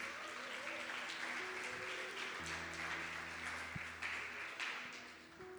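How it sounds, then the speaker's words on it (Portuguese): A church congregation applauding, sustained dense clapping filling a large room, steady throughout with a few louder bursts. "Queria que vocês recebessem ela com uma salva de palmas."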